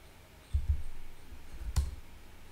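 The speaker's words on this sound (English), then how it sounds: "But if you'll double click on it" A computer mouse gives a quick double click, two soft close clicks in a row followed a second later by another click, heard alone over faint room noise.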